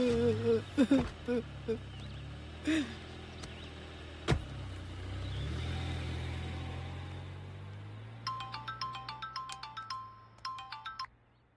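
A car pulls away after a few door and handling clunks, its low engine rumble swelling and then fading as it leaves, followed by a quick series of bright electronic beeping chimes.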